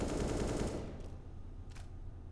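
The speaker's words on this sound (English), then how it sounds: "And the shotguns are out in full force." Shotgun fire in the CS:GO video game during a professional Nuke map match, a dense burst of loud blasts for under a second that then fades into a low rumbling tail.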